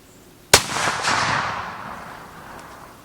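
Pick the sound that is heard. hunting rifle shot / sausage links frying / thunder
hunting rifle shot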